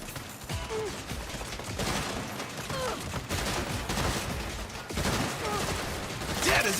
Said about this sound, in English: we gotta deal with these guys shooting us down here first